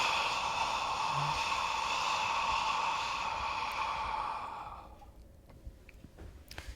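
A long, breathy exhale from a single person doing vagal breathing, voiced as a soft sigh. It is steady and close for about five seconds, then fades into quiet breath noise.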